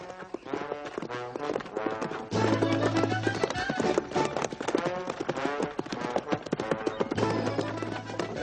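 Horses gallop in a steady rapid clip-clop of hooves, close and loud, with dramatic background music playing throughout.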